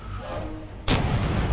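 Video game battle gunfire thinning out, with a muffled rumble of distant shots and a sudden loud burst of firing near the end.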